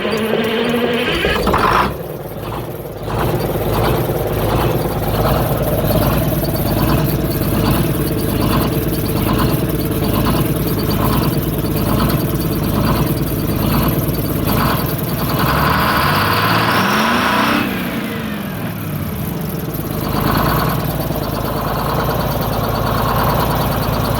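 An engine cold-starting after sitting overnight at about 14 °C, catching with a burst and then settling into a steady, loud, rumbling idle with even rhythmic pulsing throughout, no talk.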